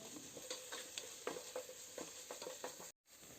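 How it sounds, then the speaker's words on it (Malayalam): Chopped onions with a pinch of salt sautéing in a pan, a soft steady sizzle broken by repeated scraping stirs, fairly quiet and close, then a brief cut to silence near the end. "ഇനി ഇതൊന്ന് നന്നായിട്ട് ഒന്ന് വഴറ്റിയെടുക്കാം"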